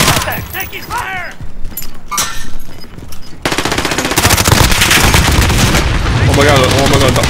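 Rapid automatic gunfire in a battle royale video game, with excited voices over scattered shots at first, then a dense, loud, sustained barrage of machine-gun fire that fills the rest of the clip.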